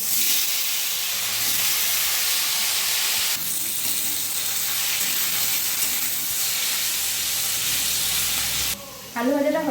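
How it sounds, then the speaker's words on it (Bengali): Potatoes fry in a pan in a home kitchen with a steady, loud, close sizzle that runs almost unbroken, dipping briefly near the end. "আলুটাও আমি ভেজে নেব।"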